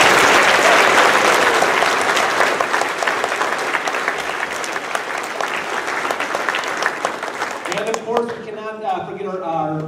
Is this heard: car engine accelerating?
no